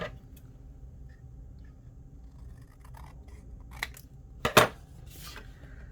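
Paper trimmed with scissors for junk journal page embellishments, a few close, crisp snips clustered near the end after a quiet stretch with light handling noise.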